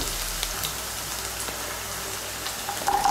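Cut cauliflower fries in hot oil along with potatoes, giving a continuous even sizzle with a faint clink near the end.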